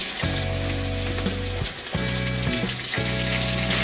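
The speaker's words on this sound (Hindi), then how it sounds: "और इनको भी 1 मिनट करीब भून लेंगे।" Crushed ginger and green chillies fry in hot oil with cumin seeds in a pan. The sizzle is loud, close and continuous, with short breaks and bursts as the pan is stirred, and no voices are heard.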